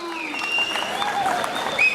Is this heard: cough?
no